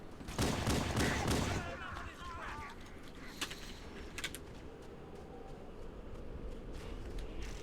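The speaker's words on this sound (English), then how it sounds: "Just gonna use my pistol though." A dense burst of gunfire opens, then scattered pistol shots crack at moderate distance over steady ambient noise in Halo: Combat Evolved on PC; someone talks underneath.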